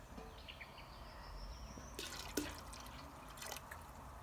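Water being poured into a canning pot while sauerkraut is canned on a porch, a soft trickle with a few drips, fairly quiet and heard alone.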